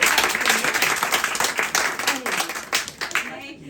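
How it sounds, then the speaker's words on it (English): An audience at an afternoon author event in Paris breaks into a warm round of applause, with dense, steady clapping from a small crowd that fades out toward the end. "let's give a big round of applause to Adrian."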